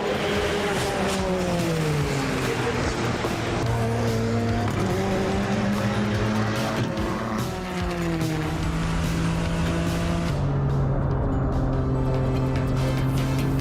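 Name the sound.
car driven hard in a time attack session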